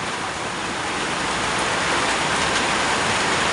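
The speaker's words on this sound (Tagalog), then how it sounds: "almost an hour na yan na ulan, may kasamang hangin na malakas." Heavy typhoon rain lashing down with strong wind in the Philippines, a loud, unbroken roar of downpour that fills the scene evenly from start to finish with no voices.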